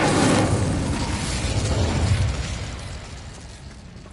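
A fire spell is cast in the Hogwarts Legacy video game, releasing a loud, roaring burst of flame that rushes out and then fades gradually over several seconds.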